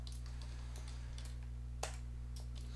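Quiet, steady computer keyboard typing, with rapid light clicks and one sharper keystroke, over a faint electrical hum.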